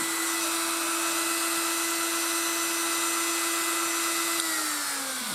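A power drill cutting a piece off a CRKT Woods Chogan knife sheath, a steady high whine held for about five seconds that dips in pitch as it winds down at the end.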